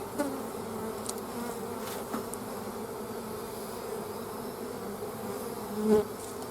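Honey bees buzz continuously, a dense drone from a swarm on hive frames, with occasional taps and knocks mixed in.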